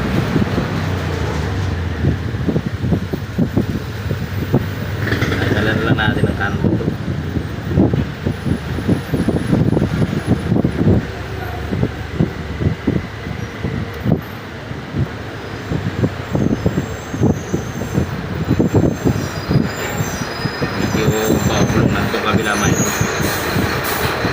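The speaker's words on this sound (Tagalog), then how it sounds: "maraming truck na dumadaan kaya pasensya na kayo doon sa ingay" Heavy trucks rumble past nearby with loud engine roar and air-brake hiss, traffic noise rising and falling, a voice talking faintly underneath.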